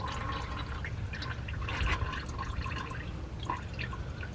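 Old engine oil drains from a 1963 Chevy C30 into a pan, a quiet steady trickle with scattered drips and small splashes close by.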